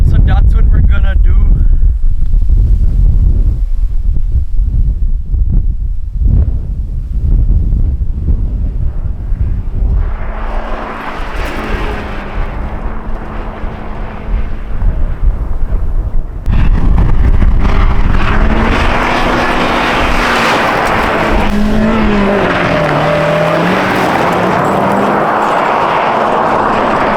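Mazda Miata driven hard on a twisty gravel road, a loud droning engine that rises and falls with gear changes amid heavy rushing wind and road noise, with people talking inside the car.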